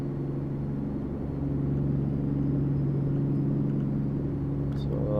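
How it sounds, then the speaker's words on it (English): A heavy truck engine drones steadily in American Truck Simulator while driving on the road, a low, even rumble with a slight swell partway through and no talk over it. "let you guys just enjoy the scenery and the truck sounds"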